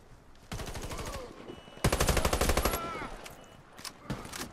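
AM-17 rifle fire in the shooter game Warface rips out in two loud rapid bursts of evenly spaced shots, followed by a few scattered single shots, with a player talking faintly.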